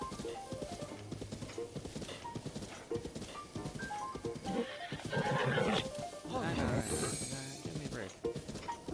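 A horse in Zelda: Breath of the Wild gallops with rapid clip-clop hoofbeats and gives a whinny, under game music and someone talking.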